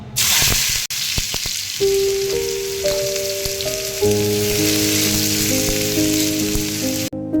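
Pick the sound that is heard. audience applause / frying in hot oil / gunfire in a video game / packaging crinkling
frying in hot oil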